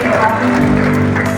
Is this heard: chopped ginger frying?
no